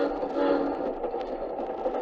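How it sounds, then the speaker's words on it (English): A passenger train travelling overnight rolls along with a steady, muffled mid-range rumble heard from inside the carriage, constant and moderately loud with faint rhythmic knocks. "we'd been on the train overnight"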